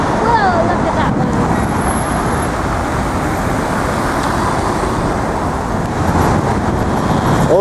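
Busy road intersection with steady, loud traffic: cars, buses and trucks rumbling and passing continuously, with faint background voices mixed into the dense roadway noise.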